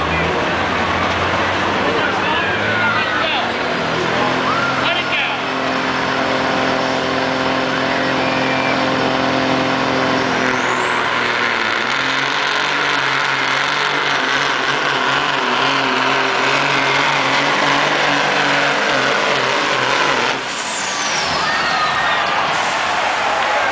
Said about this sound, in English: 1973 International with a Cummins for power